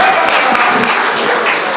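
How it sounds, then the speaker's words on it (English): Large crowd applauding after President Buhari's address during a state visit to Imo State, Nigeria, a loud, dense, continuous clapping that fills the room without pause. "Can we please give a bigger round of applause?"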